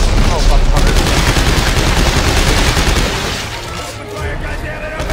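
Dense, loud bursts of rapid gunfire from the video game Dead Space 3, a sustained rattling barrage that eases slightly toward the end, with a voice shouting over it.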